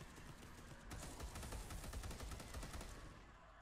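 Rapid automatic gunfire from the Space Hulk: Deathwing video game, a dense loud burst of repeated shots rattling continuously for a few seconds.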